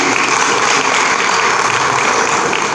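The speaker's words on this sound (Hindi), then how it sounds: "एक बार जोरदार तालियां हो जाए" Strong, steady applause at a Holi celebration gathering held in a temple, following devotional bhajan singing; a crowd claps loudly and continuously, close and full, with no talking over it.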